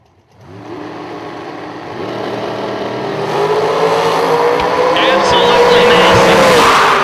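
Drag-racing cars launch side by side at a bracket racing event, the engine roar swelling from a quiet start into a loud, sustained, rising howl as they pull away down the strip.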